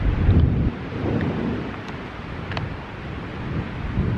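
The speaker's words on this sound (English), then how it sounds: "Here comes that wind." A wind gust at a lakeside campsite on Hayden Lake: broad, rumbling buffeting with heavy wind noise on the microphone, loudest at the start, then a steady roaring rush that swells again at the end, with no voices.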